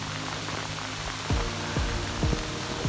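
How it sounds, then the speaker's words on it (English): Heavy rain falls steadily outdoors on a smallholding, a dense continuous hiss of drops with a few louder thuds and splashes rising briefly above the wash. "this is very rainy"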